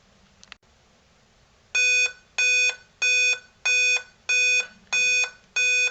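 A repeating series of loud electronic beeps from a dead Dell Inspiron 15-3531 laptop, seven evenly spaced tones after a brief click, sharp and close.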